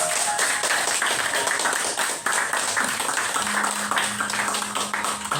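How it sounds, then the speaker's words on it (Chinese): An audience applauds after a teacher-and-student choir sings together in a class, with dense steady clapping that fills the room throughout and a faint voice underneath. "请给自己掌声鼓励"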